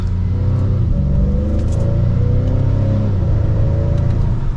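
An Acura TLX SH-AWD A-Spec in sport mode accelerates, its engine note rising steadily in pitch through the gears with a strong, close rumble and no talk over it.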